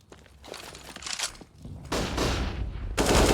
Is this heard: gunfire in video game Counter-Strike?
yes